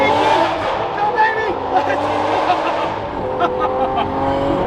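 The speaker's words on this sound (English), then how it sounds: "a stupid neighborhood kid with all the dumb loud cars is cold starting his event start at 6 a.m." A loud car's engine is cold started and revved in a residential neighborhood in the early morning, producing a steady rumbling drone with rising and falling rev swells that continues throughout.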